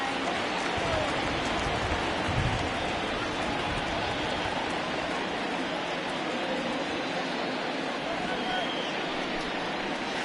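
Steady rain pours down on a PS4 baseball game, a dense even hiss running the whole way while a commentator talks over it.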